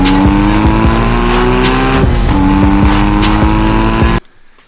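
A Nissan GT-R turbo fitted with an anti-surge compressor housing spools loudly, giving a steady high whine over engine roar, with a dip midway before it rises again and then cuts off abruptly.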